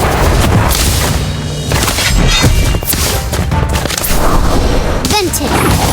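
The Expulso exploding spell from Harry Potter: Magic Awakened goes off in a string of heavy booms and thuds, loud and close, layered with busy game effects and swooshes.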